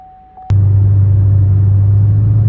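A 5th gen Chevrolet Camaro fitted with boost gauges pulls off for a ride, its engine cutting in abruptly after a brief quiet moment and then holding a loud, steady low rumble heard from inside.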